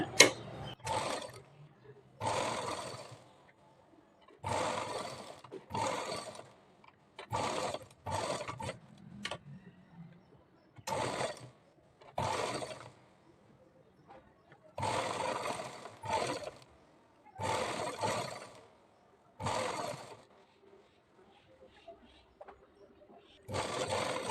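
A sewing machine stitches a princess cut blouse in repeated bursts of steady mechanical whirring, each run lasting a second or two and separated by short quiet pauses, close and clear with no talk over it.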